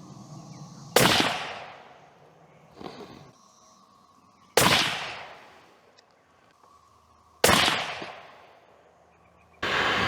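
A Savage 110 Trail Hunter bolt-action rifle chambered in .300 short mag fires four loud, sharp shots spaced a few seconds apart outdoors, each with a quick decaying boom, with a faint softer thump between the first two.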